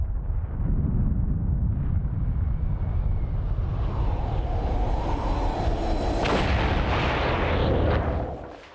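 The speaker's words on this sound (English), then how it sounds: "the Soviets also explode an H-bomb" A Soviet hydrogen bomb test explosion: a massive, sustained roar and deep rumble that fills the whole stretch, loud and continuous before fading away at the end, with no voices.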